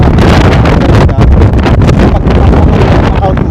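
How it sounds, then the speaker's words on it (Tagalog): Loud wind buffets a microphone outdoors on a cold, blustery day, a steady roaring rumble that fills the whole clip with only a brief lull near the one-second mark. "medyo medyo mahangin kasi at saka napakalamig"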